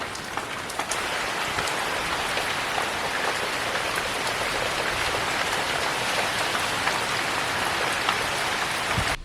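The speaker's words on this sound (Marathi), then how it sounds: "बारीक बारीक पाऊस सुरू झाला ऑलरेडी बघा" Light rain falls in a Konkan village, a steady, even hiss of fine drops on surfaces, continuous and moderately close, with no voices.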